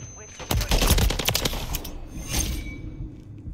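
Rapid gunfire in Call of Duty MW3, a burst of close, loud shots in quick succession followed by a few scattered cracks, with faint voice in the background.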